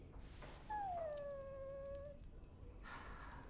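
In the Dragon Age Origins video game, a dog gives a long, drawn-out whimpering whine that slides downward, followed by quieter soft noise, all fairly faint and with no talk.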